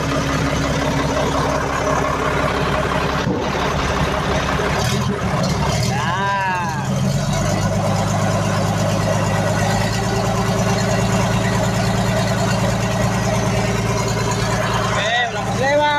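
A car engine runs steadily at idle with a low, continuous rumble and a few brief changes in pitch. People talk over it throughout.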